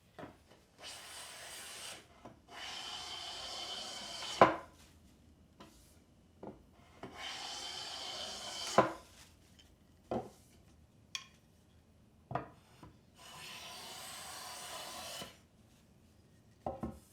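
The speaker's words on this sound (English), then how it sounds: "I get my kanna out and progressively take finer shavings until I get the luster I'm looking for." A Japanese kanna hand plane takes fine shavings from solid wood in a quiet workshop, several smooth airy hissing strokes of about two seconds each separated by sharp knocks and taps, close and with no voices.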